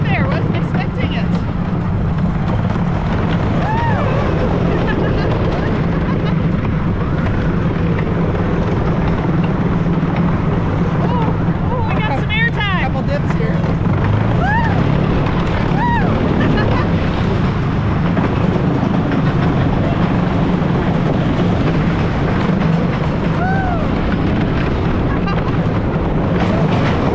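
Riding the Teddy Bear wooden roller coaster at Stricker's Grove: a loud, continuous rumbling roar of the cars on the track, with riders' voices and brief excited cries rising over the noise throughout.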